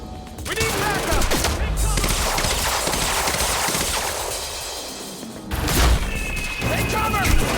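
Gunfire bursts loud and dense in the video game Quantum Break, rapid shots and booms in a chaotic exchange with shouting voices mixed in among the blasts.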